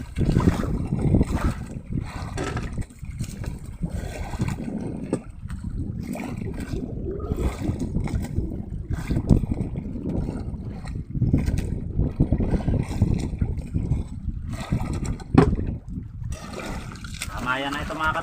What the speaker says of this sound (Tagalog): binabalandra tayo ng alon